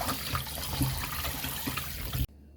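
Tap water running steadily over raw pork being washed in a sink for Jamaican jerk pork, a close continuous splashing rush that cuts off abruptly at the end.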